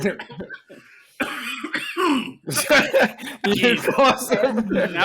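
A few rough coughs and throat-clearing sounds, close up, mixed in with chuckling and someone talking.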